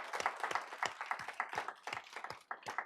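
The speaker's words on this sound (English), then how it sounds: "please join me in a huge round of applause" Applause from a crowd, with rapid overlapping claps at a steady, moderately loud level throughout.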